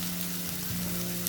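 Spice paste for mustard hilsa frying in a pan, giving a brief, dense, steady sizzle up close with no voices.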